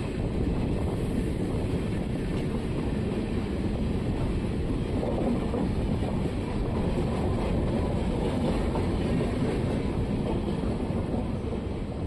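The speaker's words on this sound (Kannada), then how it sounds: "ಫ್ರೆಂಡ್ಸ್ ನೋಡಿ, ನಮ್ಮ ಟ್ರೈನ್ ಈಗ ಮಂಡ್ಯ ರೈಲ್ವೆ ಸ್ಟೇಷನ್ ಒಳಗೆ ಹೋಗ್ತಿದೆ." The Chamundi Express rolls into Mandya railway station with a loud, steady rumble and rattle of wheels and carriages, continuous and close, with wind buffeting throughout.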